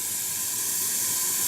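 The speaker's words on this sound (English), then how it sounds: "I politely invite this delicate sizzling sound into our lovely forest." Steady, soft sizzling hiss of Taiwanese fried noodles cooking outdoors in a forest, with a bright high-pitched edge, continuous and unbroken, with no voices.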